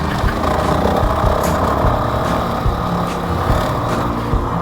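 A Honda CRF450RL motorcycle engine putters along in third gear on rough unmaintained Ohio back roads, a loud, close, continuous drone with slight rises and dips in throttle.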